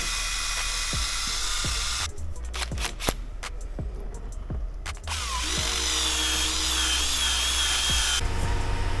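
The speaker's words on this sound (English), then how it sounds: "You put your drill on the end." A power drill whirs in a few sustained high-pitched bursts while cleaning carbon out of a hole in a car part, with scraping and clicking in between, close and loud.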